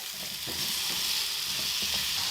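Squash pieces sizzle steadily in a hot pan, a dense continuous frying hiss with a few soft scraping knocks as they are stirred.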